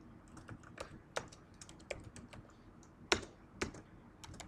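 Keystrokes on a computer keyboard as an email is typed, irregular clicks and clacks at a moderate distance, quiet and alone with no talking.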